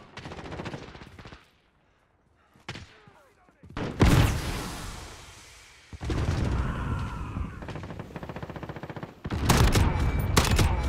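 FAL rifle fire in a Modern Warfare multiplayer match, with several loud bursts of rapid shots broken by brief pauses and a near-silent stretch, and a voice speaking between the volleys.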